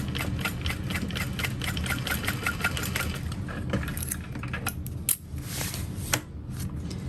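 Sewing machine running steadily while stitching a quarter-inch seam on a small bowler hat, with a continuous motor hum and rapid rhythmic needle ticking throughout, a couple of brief clicks near the end.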